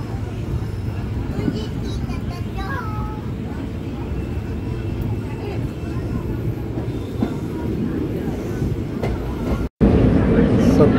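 The Guruvayur–Chennai Egmore Express pulls into Sattur railway station with a continuous, close rolling rumble of wheels and carriages, steady throughout and briefly cut near the end.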